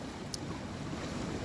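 Sea waves washing along a sandy beach near Mipo, a steady broad wash with wind noise, moderately quiet and continuous, with no talk.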